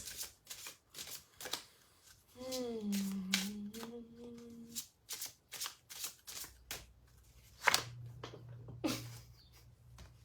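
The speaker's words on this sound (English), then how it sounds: "You just saw how much I shuffled, eh?" A deck of tarot cards being shuffled in repeated quick riffling bursts, close and crisp, with a few soft tonal hums and a brief low hum partway through.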